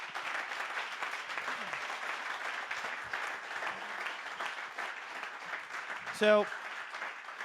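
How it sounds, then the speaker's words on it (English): Sustained, moderately loud crowd applause at a digital tech summit for startup founders who pitched, steady throughout, with a short spoken word and a brief vocal burst near the end. "So just a round of applause for every founder that pitched"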